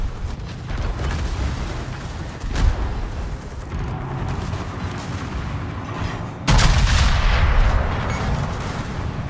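Naval guns fire in the World of Warships video game, heavy booming blasts over a constant rumbling battle ambience, with a louder, closer salvo near the end.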